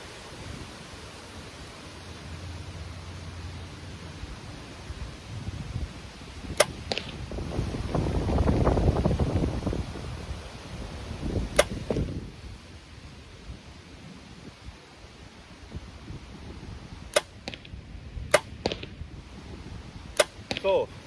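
Gearhead Archery T18 mini compound bow shot outdoors with its sound-dampening stabilizer removed, several sharp string snaps with a short twang spread over steady wind-like background noise, moderately close.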